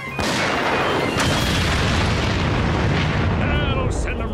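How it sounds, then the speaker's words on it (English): A cartoon bomb is shot and blown up in an animated history show, a loud, sustained booming explosion filling the whole clip and rumbling throughout. "Shoot at the bomb. Blow it up."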